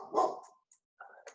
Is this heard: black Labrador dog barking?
yes